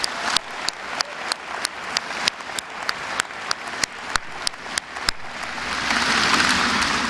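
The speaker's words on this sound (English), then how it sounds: "Another warm round of applause for Professor Piketty" Audience applause at the close of the Nelson Mandela Annual Lecture given by Thomas Piketty: sustained clapping from a large crowd, steady and close, with sharp individual claps standing out and swelling slightly louder toward the end.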